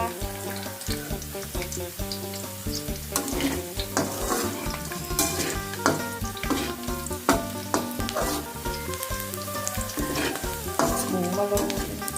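Garlic fries in hot oil with loud steady sizzling and repeated spatula stirring and scraping against the pan, under continuous background music, for a Thai stir-fried mixed vegetables with pork dish.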